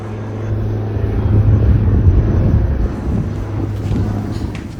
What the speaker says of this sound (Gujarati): પ્લેન જાય છે મિત્રો